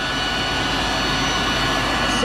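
Steady, loud roar of the vacuum system on a John Deere 1790 planter sucking soybean seed to the meters, a constant broadband rush with no breaks.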